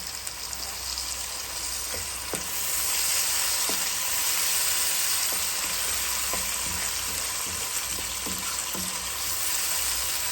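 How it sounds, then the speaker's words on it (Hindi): Chopped tomatoes fry with chickpeas in a pan, giving a steady close sizzle broken by small scattered pops and spatters. "अब मैं इसमें टमाटर डालूँगी।"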